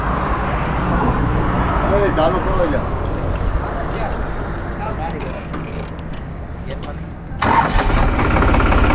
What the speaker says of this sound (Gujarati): આપણે આગળ આવીને આપણે ટ્રેક્ટરનો અવાજ આપણે જરીક જોઈ લઈ